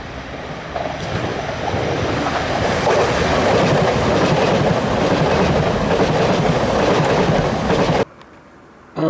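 A train rushes past close by in a loud, continuous roar with rhythmic clattering of the wheels on the rails, holding steady for about eight seconds before cutting off abruptly.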